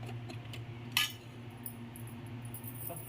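A spoon stirs tomato soup in a cooking pot, giving one brief clink against the metal over a faint steady background hum, with no talking.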